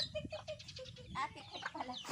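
Chickens clucking close by outdoors in the countryside, several short quiet calls in quick succession with faint background noise.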